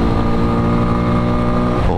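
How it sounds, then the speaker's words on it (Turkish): A Yuki Scrambler, a beginner motorcycle suited to an A1 licence, fitted with an exhaust specially designed for sound, runs loud and close in a steady, throaty engine drone that eases off slightly at the end. "Ses yapması için özel tasarlanmış egzoz var üzerinde."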